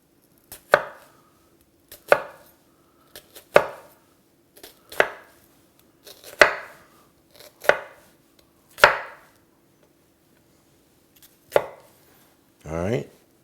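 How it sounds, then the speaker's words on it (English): A very sharp Vie Belles Reserve kitchen knife chops through an onion on a board, giving about nine crisp, evenly spaced knocks with short decays, close and alone, ending in a brief scraping sound. "I gently tap the knife down because I don't want it to go all the way through the onion"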